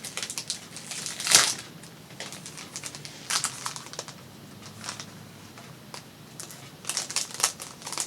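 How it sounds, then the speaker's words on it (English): Plastic packaging around a greeting card product crinkles in a few short, dry bursts, loudest near the start and again toward the end, with quieter rustling and handling noise in between and no talking. "the plastic crinkling was a little loud"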